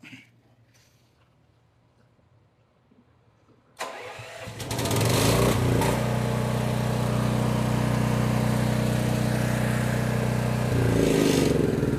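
A Harbor Freight Vulcan Outlaw 195 welder-generator engine with a choke mod cranks after quiet handling noises, catches and settles into a loud, steady running roar close by.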